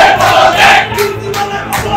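College students at a protest in Kishoreganj chant slogans demanding the principal's resignation, a loud, rhythmic crowd chant rising and falling in unison.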